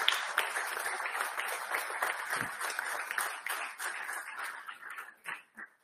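An audience at an Olympic delegation press conference applauds for a woman in the front row, a moderate spell of sustained clapping that thins and breaks into a few scattered claps at the close.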